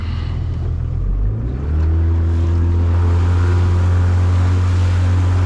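Outboard motor on a small fishing boat throttling up on open water, the engine drone rising in pitch and steadying into a loud, continuous run with water rush, no talk.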